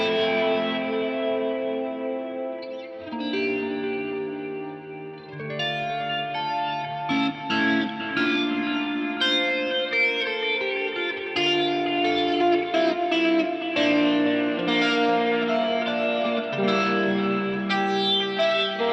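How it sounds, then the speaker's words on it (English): An electric guitar runs through a Deluxe Electric Mistress pedal set to a slow, chorus-like flanger, playing a continuous melodic passage of picked notes and chords with a swirling, echoing shimmer, steady and up close without talk. "I like to use a slow type of flanger, almost like a chorus, like this"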